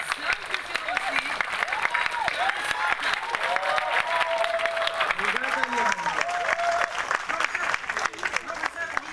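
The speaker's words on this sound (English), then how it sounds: "A big round of applause for Nina David." Audience applause at a university department event in Lucknow, steady dense clapping throughout with voices and tonal sounds mixed in, fairly loud and continuous.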